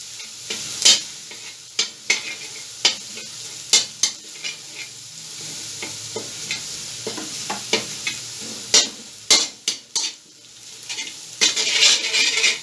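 Crushed garlic sizzles steadily in oil in a pan while a utensil stirs and scrapes, producing a string of sharp clicks and taps over the hiss, with no talking.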